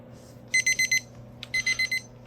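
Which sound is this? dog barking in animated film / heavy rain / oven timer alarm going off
oven timer alarm going off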